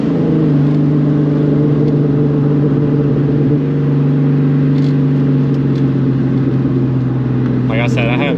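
A car driving a bumpy road heading to Mustang Week 2024 gives a steady loud cabin drone of engine and tyre rumble, nearly unchanging throughout, with a person talking over it.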